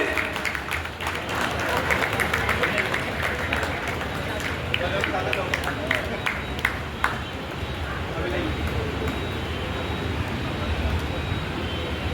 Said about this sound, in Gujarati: એમનું પણ તાળીઓના ગડગડાટથી એમના સ્વાગતને વધારીને